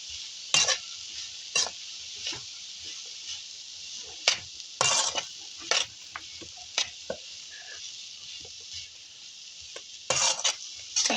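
Minced chicken, boiled and then chopped, is stirred into masala in a pan for shimla mirch chicken kababs, giving repeated scraping spoon strokes and clinks over a steady sizzle, with no talking.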